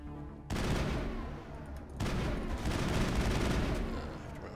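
Gunfire in the Mass Effect video game comes as two dense, sustained bursts of rapid shooting, fairly loud and continuous, with a short break between them.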